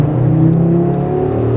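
An Audi RS3 engine hums steadily and close while accelerating through a corner, with a smooth tonal drone and a slight rising whir. No one speaks.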